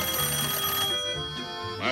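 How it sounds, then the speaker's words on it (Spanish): An old telephone bell rings loudly indoors, a steady trilling tone that breaks off midway before a short second burst begins, with faint background noise in a home setting. "Matilde, teléfono."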